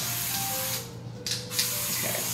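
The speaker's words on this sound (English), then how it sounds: "Evian water, I'm just gonna spray" A can of Evian water mist sprays in two short hissing bursts, fairly close and steady, over a faint background hum.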